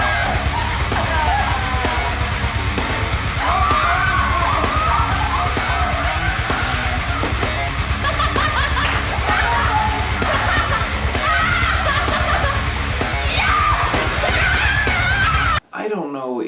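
Someone screams and yells through a comedy sketch, loud and close, her raised voice mixed with other shouting voices and busy background noise for about fifteen seconds before an abrupt cut.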